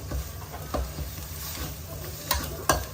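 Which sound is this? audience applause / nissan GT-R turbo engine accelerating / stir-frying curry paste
stir-frying curry paste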